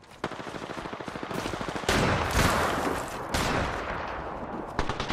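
Gunfire in Apex Legends while playing Rampart, rapid automatic bursts cracking close and loud, broken into several volleys with brief pauses, plus heavier impact blasts mixed in.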